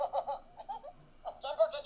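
A Stitch plush toy shaken on a desk gives off a faint, bubbly electronic giggle in short bursts, with a brief pause before a final burst.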